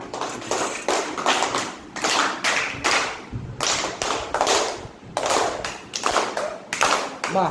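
A group of children clapping their hands together in a classroom activity, bursts of brisk rhythmic claps in several rounds with brief pauses between them.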